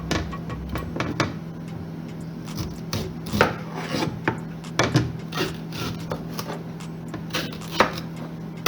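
A knife cuts the ends off a washed green plantain for vegan plantain balls, giving a close run of scraping, rubbing knife-on-board contacts with sharper chops near four, five and eight seconds, over a steady low hum and no speech.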